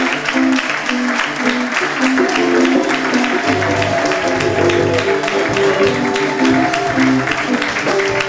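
A congregation applauds and cheers during a pastor's ordination service, with sustained dense clapping and crowd noise filling the whole stretch, mixed with music or voices in the background.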